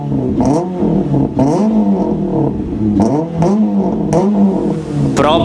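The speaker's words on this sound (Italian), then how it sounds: "Proprio un bel 2000 aspirato da macchinina da rally" A naturally aspirated 2.0-litre Renault Clio 2 RS with 182 horsepower revs repeatedly and loudly, each blip climbing and falling in a steady rhythm of sharp rises, close up with no talking.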